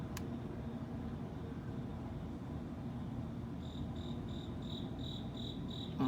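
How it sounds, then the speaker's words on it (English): A lone cricket chirps at night in a steady, rapid pulsing pattern, faint above a constant low rumble of background noise, becoming clearer in the second half. "Oh, now you hear the cricket instead."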